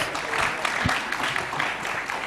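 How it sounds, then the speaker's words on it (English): Audience applause for a launch during a conference plenary on the blue economy, steady moderate clapping with a soft thump partway through. "So let's have a round of applause for this launch."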